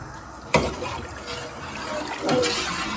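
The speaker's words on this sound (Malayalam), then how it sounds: "9 ഗ്ലാസ് വെള്ളം അളന്ന് വെച്ചതാണ് ഒഴിക്കുന്നത്" Nine measured glasses of water being poured into a cooking pot for chicken kabsa, a sudden splash followed by a running, gushing pour that swells again near the end.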